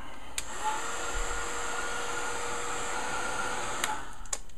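A hair dryer blows a steady, close whoosh over fresh paint for several seconds, then clicks off near the end.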